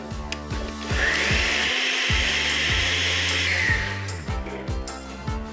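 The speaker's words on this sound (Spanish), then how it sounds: "Y esto lo vamos a licuar." A blender whirs loudly for about three seconds, blending aguachile sauce with fresh cilantro, with a steady high whine between brief clatters at the start and end.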